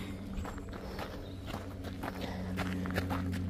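Footsteps of hikers on a summer walking trail in Norway crunch in a steady rhythm, fairly faint and close, with a low hum running underneath.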